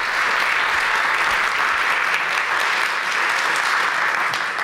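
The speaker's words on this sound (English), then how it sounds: "Round of applause," Audience at a literature night event applauds continuously, a dense even wash of clapping hands at constant loudness with no voices over it.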